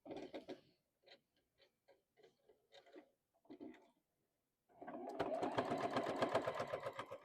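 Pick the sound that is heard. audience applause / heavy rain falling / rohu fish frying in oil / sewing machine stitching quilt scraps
sewing machine stitching quilt scraps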